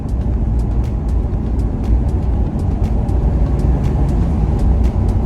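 A Toyota Supra pulls hard through its gears, with a continuous loud engine and road roar from inside the car and faint rhythmic ticking above it.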